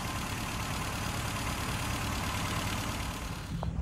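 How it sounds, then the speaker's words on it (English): Classic Mini engine idling after fresh BP6ES spark plugs gapped at 35 thou, a close, steady, loud rumbling idle with a brief change near the end. "Engine started on the button now, so now we're ready for tuning."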